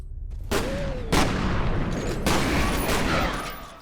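Gunfire in the first-person shooter F.E.A.R.: loud, sharp bursts of shots with heavy booming impacts, several distinct blasts spaced over a few seconds, ringing tails and debris between them, no voices.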